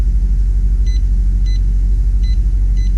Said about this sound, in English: Here the compressor's running